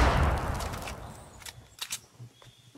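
Grenade blasts and gunfire in the Fortnite Battle Royale video game: a heavy explosion rumbles at the start and fades, followed by several short, sharp shots and pops spaced out irregularly.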